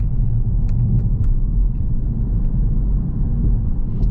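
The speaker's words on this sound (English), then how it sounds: "Cruising through the streets of BR." A Kia Stinger cruising through city streets, its engine and road rumble heard from inside the cabin as a steady low drone with a few faint clicks over the top.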